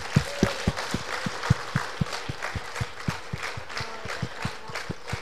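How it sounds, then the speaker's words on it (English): An audience at a school drama show claps in a steady, evenly spaced rhythm, a continuous run of moderate claps over a low background rumble. "They truly deserve another huge round of applause."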